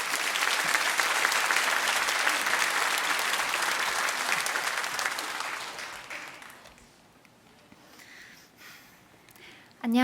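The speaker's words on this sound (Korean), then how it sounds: "우리 조원정 자매 나올 때에 큰 박수로 그렇게 맞이해 주시면 감사하겠습니다" A church congregation gives a long burst of loud, dense clapping that fades after about six seconds into quiet room sound, ending with a brief voice.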